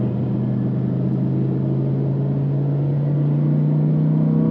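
A Lamborghini Huracan in normal mode, driving in fourth gear, gives a steady, loud engine and exhaust drone with a low rumbling hum. It holds an even tone throughout without sharp revs.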